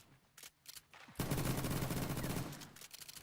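A short, dense burst of gunfire in a shooter video game plays at low volume. Scattered single shots come first, then a sustained rattle of rapid fire for about a second, with no talking.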